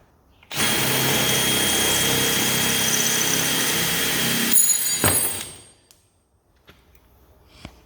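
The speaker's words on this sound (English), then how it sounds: "we're going to drill it in and then pop the head off" A power drill whirs loudly and steadily for about four seconds drilling out a rusty Torx screw, then winds down, followed by a few light metallic clicks.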